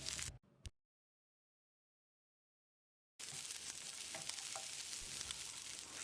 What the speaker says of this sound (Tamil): அளவான தீயில் 1 நிமிஷம் இதை வதக்கிடலாம்